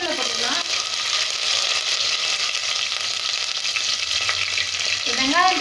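Bay leaf, green chili and curry leaves frying in oil produce a strong, continuous sizzle close by, with a voice speaking briefly at the start and again near the end.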